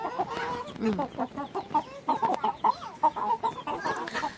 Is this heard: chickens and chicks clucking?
yes